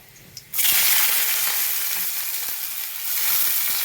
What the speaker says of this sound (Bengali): এবার আমি কাঁচা কুচিয়ে রাখা পেঁয়াজটা দিয়ে দেবো।